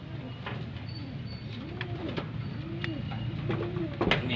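Pigeons coo in a loft at feeding time, several rounded, repeated coos rising and falling close by over a steady background murmur, with a few sharp clicks and flutters.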